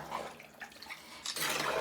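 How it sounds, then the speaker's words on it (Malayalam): Water is poured into a pot of beef curry, a soft, close splashing gurgle that swells into a steadier rush during the last half second. "വേവാൻ വെള്ളം ഒഴിച്ചു കൊടുക്കുക."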